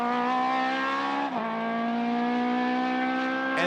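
A race car with an H-pattern gearbox runs at the New Zealand Grand Prix circuit. The engine holds a steady, buzzy drone with a brief dip partway through, like a gear change, then rises again at the end.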